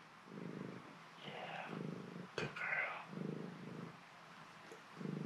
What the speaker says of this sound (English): Guys, look at this cat.